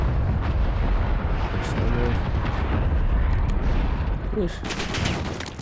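Gunfire in the video game Warzone, rapid bursts of shots crackling over a dense, continuous battle din, with a brief spoken interjection.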